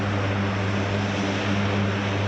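C-130J military transport aircraft at a Rhode Island air show, its four turboprop engines and propellers producing a loud, steady droning hum with strong low tonal throb, continuous and close throughout.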